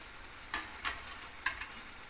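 Puris deep-fry in hot oil for a traditional Marathi puri bhaji. A soft, even bubbling hiss is broken by a few short, sharp clatters, likely a slotted spoon touching the pan.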